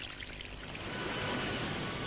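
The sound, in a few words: spring water pouring over a cliff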